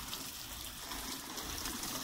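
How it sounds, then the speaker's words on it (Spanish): Rainwater running off a roof made of recycled plastic bottle tiles, a steady broadband trickling wash that continues evenly throughout without voices. "está cayendo el agüita, muy bien"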